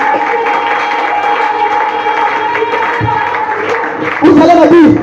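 A church congregation in a French-language service claps and cheers, loud and steady, with crowd noise and voices mixed in, swelling in a louder burst of cheering near the end.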